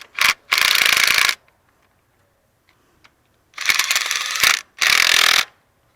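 A ratchet tightens the thermostat housing bolt on a 2001 Ford Ranger 3.0 V6, heard as four close, loud bursts of rapid clicking separated by a quiet gap, with no talking.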